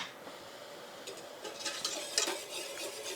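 A spoon scrapes and swirls through a butter-mounted Saint-Émilion sauce for duck, making soft, close, quiet stirring sounds that grow busier toward the end, with a faint sizzle beneath.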